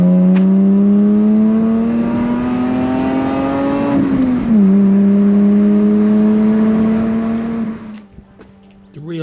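A Lexus IS200 with a roughly 150-horsepower engine on the Conor Pass road, a loud, sustained engine note that climbs in pitch, dips briefly as the gear changes, then holds steady before fading.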